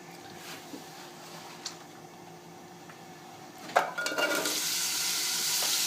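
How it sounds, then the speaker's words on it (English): Onions, celery and carrots begin sautéing in extra virgin olive oil, with a quiet background that turns into a steady broadband sizzle about two thirds of the way through. The sizzle holds at a moderate level until the end. "We're going to sweat out our onions, celery, and carrots."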